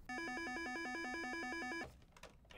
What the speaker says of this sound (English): the phones start ringing.